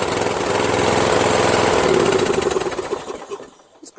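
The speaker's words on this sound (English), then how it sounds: "It's a good engine, you know?" A Kohler engine on a Wheel Horse 1238XL lawn tractor runs loudly and close with a steady chugging drone, then winds down and fades toward silence near the end.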